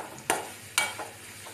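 Onions and green bird's-eye chillies stirred in a frying pan, with two sharp scrapes of the spoon over a soft steady sizzle, then a fainter third stir.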